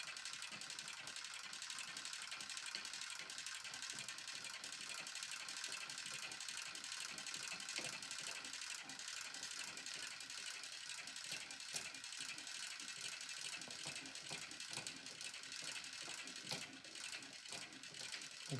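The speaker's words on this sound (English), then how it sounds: "Because they have a single spring motor and a little spring, you need to wind them all the way up." Someone winds the single spring motor of a VV 2-55 phonograph with a long, quiet run of rapid ratcheting clicks that keeps a steady rhythm throughout.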